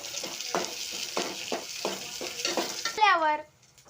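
Onion frying in oil with red chillies, a steady sizzle broken by rhythmic scraping stirs about every half second. A brief squeaky scrape near the end fades into near silence.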